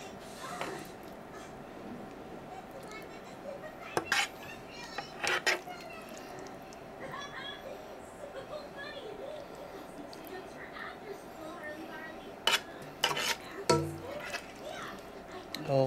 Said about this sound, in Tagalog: Ilalagay ko na po sa plato.